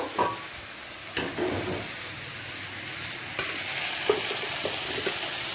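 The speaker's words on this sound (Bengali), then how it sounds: "হলুদটা দিয়ে একবার ভালো করে মিশিয়ে নেব সবজির সাথে" Fried vegetables with turmeric are stirred in a hot pan, a soft continuous sizzle broken by a few sharp scrapes and clinks of the spoon against the pan.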